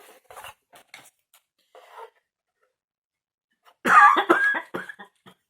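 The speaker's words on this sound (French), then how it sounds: "j'en ai marre de cette toux" Faint rustling and small clicks, then a burst of loud, close coughing, several rapid hacks in a row before fading out.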